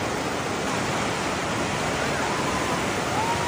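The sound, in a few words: Lidder river flowing while it rains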